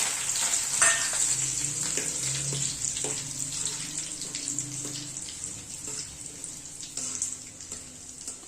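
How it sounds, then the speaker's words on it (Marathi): Roasted split chickpeas (dalya) sizzle and crackle steadily in hot oil for Kolhapuri bhadang, a dense continuous fry with occasional louder pops, no voices. "थोड्याशा डाळ्याही तळून घ्यायच्या"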